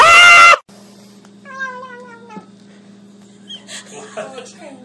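A cat meows in a short run of rising, tonal cries after a brief loud burst at the start, close and clear over a low steady hum, with more scattered cries and noises near the end.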